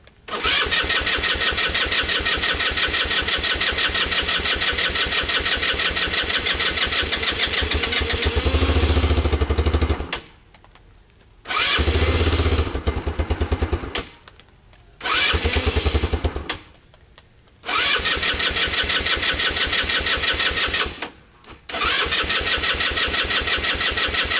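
A choked engine on a derelict vehicle is cranked over and over, loud and close, in long bursts of cranking and sputtering separated by short silent gaps.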